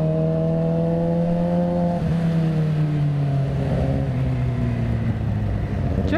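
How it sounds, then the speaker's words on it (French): A KTM Duke motorcycle passes close by, its engine note a steady loud drone that slides gradually lower in pitch as it goes past, with no talk over it. "Oh, KTM Duke. Alors j'ai pas vu si c'était la 1290."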